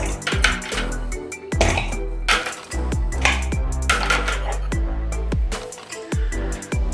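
Chicken wings tossed with butter, garlic and Parmesan sauce in a bowl, sharp repeated clanks and knocks against the bowl in an uneven rhythm, close and clear.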